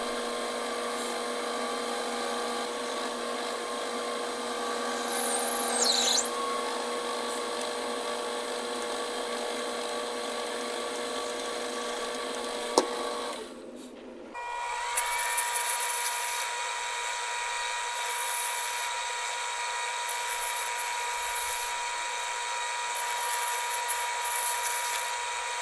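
A high-pitched drill whines steadily through brass, pausing briefly midway before resuming with a bright, sustained grinding tone.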